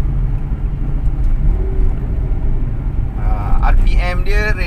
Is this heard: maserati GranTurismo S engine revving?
yes